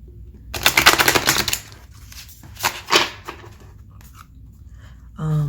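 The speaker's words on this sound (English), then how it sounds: "I'm not very good at shuffling these cards yet" Crisp riffling bursts of a brand-new tarot deck being shuffled, a dense flurry of card flicks followed by a shorter second ruffle and a few scattered taps, close and fairly loud with no talking.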